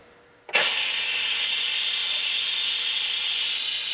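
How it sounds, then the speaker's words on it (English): Steam bursts suddenly from a pressure cooker holding black bear meat, becoming a loud, close, continuous hiss that holds steady for several seconds. "Oh, it's a pressure cooker. That's hard to get off."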